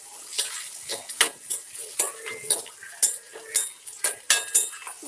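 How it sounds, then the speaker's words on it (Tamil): Chopped small onions sauté in a pan for a chicken gravy. A spoon stirs them and scrapes the pan in a steady rhythm of clinks under a soft sizzle, close up and with no talking. "நறுக்கி வச்சு சின்ன வெங்காயத்தை போட்டு நல்லா வதங்கட்டும்."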